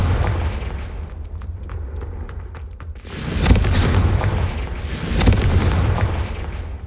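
Confringo spell blasts in the video game Hogwarts Legacy, a rumbling explosive boom with debris crackle followed by two further loud bursts about two seconds apart, heavy low-end roar swelling and fading after each.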